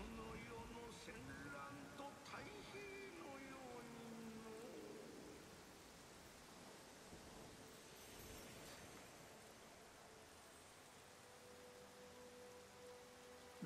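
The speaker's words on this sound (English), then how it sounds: "It's the rain." Rain falls in the video game Nioh, a faint, steady patter with soft musical tones and quiet voices drifting underneath.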